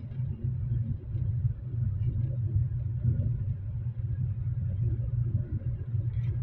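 A car rolls along in neutral on a road near Jinn Hill, making a steady low rumble with a faint drone and tyre noise, even in level, with no voices heard.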